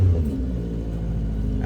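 Subaru Sambar engine idling steadily just after a cold start in snow, a low continuous rumble heard close up with no voices.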